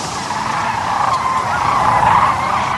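Hundreds of thousands of migrating sandhill cranes along the Platte River make a loud, continuous wash of overlapping rattling calls, a dense massed chorus spread from near to far with no clear individual voice standing out.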